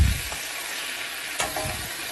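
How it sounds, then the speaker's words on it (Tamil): Okra (ladies finger) sizzles in a pan for a Tamil-style vendakkai poriyal, with a constant frying hiss broken by a couple of stirring scrapes and no talk. "கீழேருந்து மேலே வர மாதிரி நல்லா மிக்ஸ் பண்ணி விட்டுக்கோங்க"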